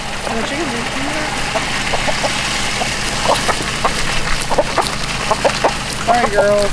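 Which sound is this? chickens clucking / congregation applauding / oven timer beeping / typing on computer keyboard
chickens clucking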